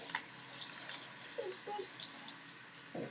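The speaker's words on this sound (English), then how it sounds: "Put some water on it." Water poured onto a wet/dry bag, a short faint trickle and a few soft drips and splashes in a quiet indoor room, with no speech.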